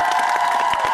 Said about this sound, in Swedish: Judith, en stor applåd